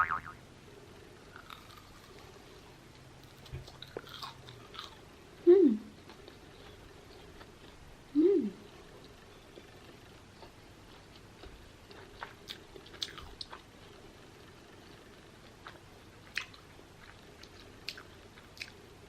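Someone chews a crunchy Sonic fast-food corn dog with sweet cornmeal batter, eaten without ketchup, up close: quiet, scattered crunches and soft mouth sounds in a hushed room, with a couple of sharper bites standing out.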